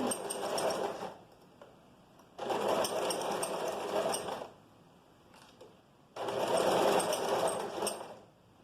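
Three steady bursts of sewing machine stitching run a straight seam on a vest, each about two seconds of even mechanical whirring, close and clear, with short quiet gaps between them.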